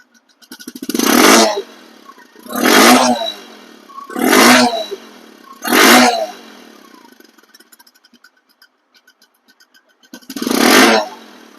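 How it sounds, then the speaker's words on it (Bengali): A 2022/23 Bajaj Discover 110cc motorcycle, kick-started with a dead battery, runs loudly close by. Its engine revs in five short, even bursts separated by near-silent pauses. "আমি পা দিয়ে স্টার্ট দিচ্ছি"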